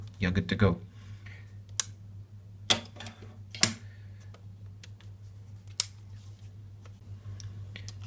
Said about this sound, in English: when you hear this click sound